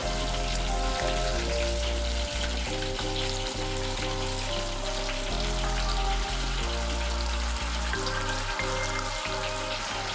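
Breaded pork tonkatsu cutlets shallow-frying in a saucepan of hot oil, a steady dense crackling sizzle running the whole time with low rumbling underneath and occasional brief knocks.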